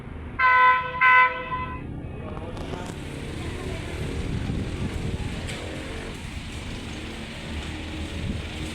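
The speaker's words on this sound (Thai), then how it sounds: "มาแล้วครับขบวน 518 ครับ อุดรธานีหินรับกำลังจะผ่านสถานีมวกเหล็กครับ" Train no. 518 Udon Thani–Hin Lap rolls past Muak Lek station with a steady mechanical rumble and clatter of wheels and cars. Brief talk comes at the start before the passing noise takes over.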